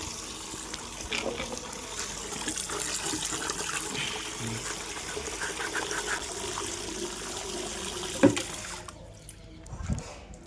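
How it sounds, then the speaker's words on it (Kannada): Running tap water as something is washed, a continuous splashing gush for most of the clip, with a few clunks, that cuts off near the end. "ಬನ್ನಿ ತೊಳೆದ್ಬಿಟ್ಟು ತೋರಿಸ್ತೀನಿ ನಿಮಗೆ."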